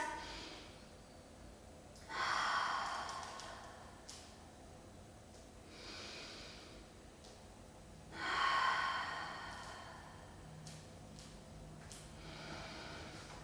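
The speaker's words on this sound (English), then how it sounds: "4 deep, nourishing rib breaths." Deep rib breaths taken during a core exercise, heard as two slow, audible inhale-exhale swells close by against a quiet background.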